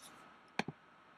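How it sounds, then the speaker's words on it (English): A computer mouse gives a right click: two quick, close clicks, one just after the other, against a quiet background. "I'm going to right click."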